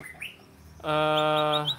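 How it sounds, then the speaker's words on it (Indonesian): A batu songbird (burung batu) that has just finished molting gives a loud, bright harmonic call after a brief quieter chirp, close to the microphone and heard alone. "di depan saya ini burung batu, ini baru mabung"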